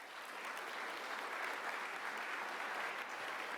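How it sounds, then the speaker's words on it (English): Staff audience at a community college all-employee meeting applauding a presenter, a dense, even roar of clapping from a sizable crowd, sustained at a steady level without voices. "So let's give Ryan a round of applause."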